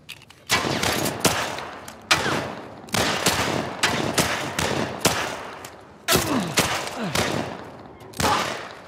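Repeated bursts of automatic gunfire from The Last of Us Part 1, loud and close, come in several separate volleys with short gaps between them, each volley trailing off before the next.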